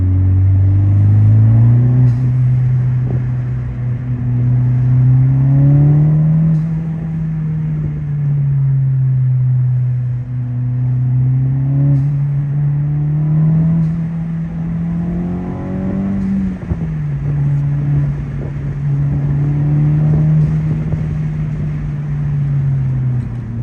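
A 2023+ Honda Civic Type R fitted with an HKS SQV4 blow-off valve and recirculation kit revs repeatedly, its loud, close engine note climbing and falling in several smooth sweeps with no talking.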